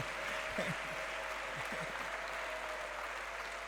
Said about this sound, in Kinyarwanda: Nimuyikomera amashyi mu izina rya Yesu.